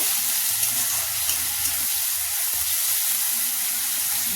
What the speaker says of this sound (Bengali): এবার আদা রসুনের পেস্ট দিয়ে দেবো, ভালো করে নাড়াচাড়া করবো।